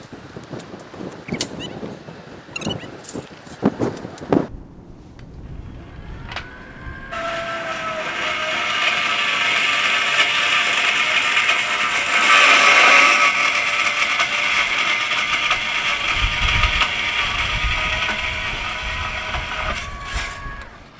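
A band saw cuts through deck material during a clip-type garden deck installation: a few scattered knocks and taps, then a steady, fairly quiet whining cut lasting about fourteen seconds, with no talk.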